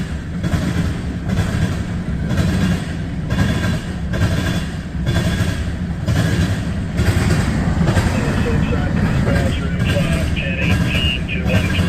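A long CSX mixed freight train with steel beams and tank cars rolls past at night in wind and rain, a steady loud rumble filling the whole stretch without letting up.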